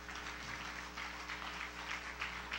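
A church congregation applauds through a steady wash of clapping hands, sustained and moderately loud from start to finish with no voices over it.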